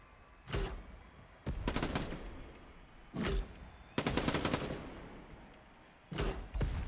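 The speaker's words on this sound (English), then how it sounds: "we see Benther taking out the grenade launcher now" Grenade launcher shots in a Quake 1v1 match, a series of heavy booming blasts at irregular intervals, some in quick clusters, fairly close and loud over a quiet background.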